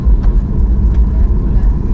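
An airliner taxis before takeoff, heard from inside the cabin as a loud, steady low rumble of engines and wheels with a murmur of voices mixed in.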